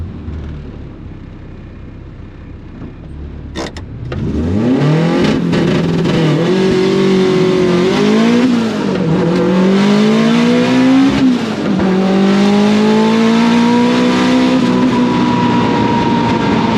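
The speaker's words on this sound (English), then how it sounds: "Perfect clutch launch." A road-going drag race car launches off the clutch: the engine roars up from idle into a loud, sustained acceleration through rising revs and gear changes, staying close and intense for over ten seconds.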